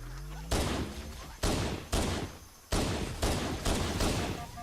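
Video game gunfire booms out in six heavy, loud shots at uneven intervals, each with a long rumbling decay, and a low tone hums underneath at the start.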